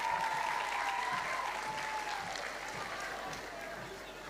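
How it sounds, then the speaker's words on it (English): Audience at a school valedictory service gives a warm round of applause for guest speaker Dr. Damian Black, a steady wash of crowd clapping that fades slightly, with a sustained tone and some voices audible beneath. "Give him a warm round of applause."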